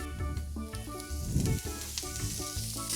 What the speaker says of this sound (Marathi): तवा गरम झाल्यानंतर मी त्यावर कांदा भाजून घेणार आहे